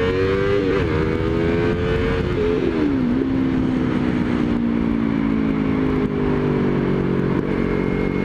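A Yamaha R3 motorcycle pulls away on a test ride in an 80 km/h zone, its engine note climbing steadily through the gears with brief dips at the shifts, loud and close under wind noise.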